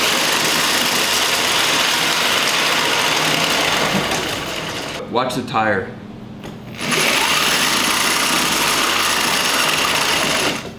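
An 80V homemade electric go-kart runs with its motor and chain whining steadily, loud and close, then briefly drops away and returns. People talk over part of it.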